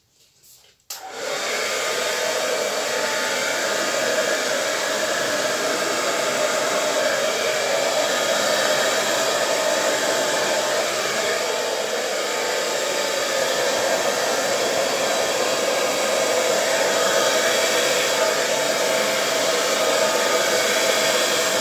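A hair dryer blows out an acrylic paint pour, switching on after a brief click and then running as a loud, steady, close rushing whoosh for about twenty seconds with no talk.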